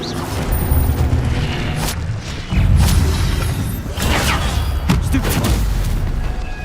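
Spell effects in Hogwarts Legacy combat, including the Levioso spell, a dense run of booming thuds and crackling bursts close and loud, recurring every second or so with no talk.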